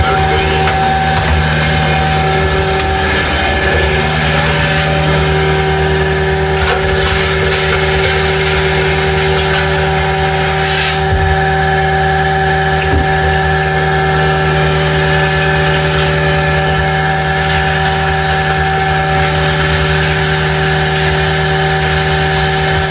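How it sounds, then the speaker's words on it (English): Steady droning pump truck engine with a constant mechanical hum, pumping septage out of a portable toilet, continuous and fairly loud throughout, with faint voices now and then. "while I'm cleaning and pumping out the septage"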